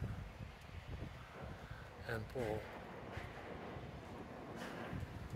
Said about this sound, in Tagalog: Pasensya na po kayo kasi malakas ang hangin.